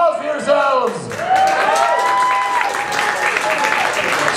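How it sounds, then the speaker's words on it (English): A comedy variety show audience cheers with whoops and rising voices, then breaks into a full round of clapping that carries on loudly to the end. "Loud round of applause for yourselves."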